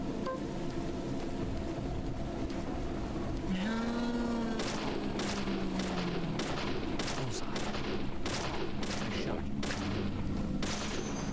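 Repeated gunshots in a survival horror video game, a rapid series of sharp broadband cracks arriving in quick succession over a droning game soundtrack, with a sweeping tonal sound in the middle.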